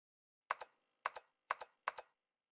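Computer keyboard typing in the 999 video game: four short bursts of clacking keystrokes, each a quick double tap, evenly spaced and close, with no talk.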